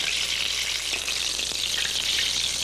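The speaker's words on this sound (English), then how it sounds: "And then stick it into deep fry." Wet flour clumps deep frying in hot oil give a steady, loud, dense sizzle that holds unbroken, with a few faint clicks beneath and no talking.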